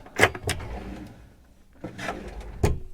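Large storage drawer beneath the bed of a 2008 Princess 42 yacht sliding open, a couple of close knocks and a soft runner slide between them.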